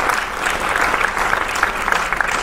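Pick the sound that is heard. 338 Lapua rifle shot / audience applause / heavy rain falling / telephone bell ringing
audience applause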